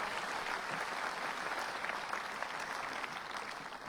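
Steady applause from a large tennis crowd at a Janowicz versus Dimitrov match fills the space, a dense even patter of clapping that holds for several seconds without voices.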